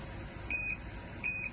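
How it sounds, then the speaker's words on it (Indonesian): An electronic buzzer triggered by a gas sensor passing its threshold gives two short, high, faint beeps about three-quarters of a second apart over a low steady hum. "di sini menandakan melewati dari 500, maka buzzer akan berbunyi secara bling"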